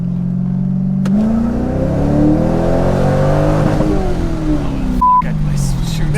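A Corvette pulls away and accelerates hard, its engine note climbing steadily in pitch through the gears, loud and close, with a brief dip and a short electronic beep near the end.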